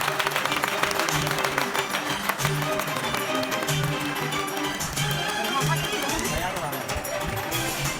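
Applause from a graduation ceremony audience as Turkish Language graduates file into the hall, a steady dense patter of many hands under a continuous crowd murmur with talk over it.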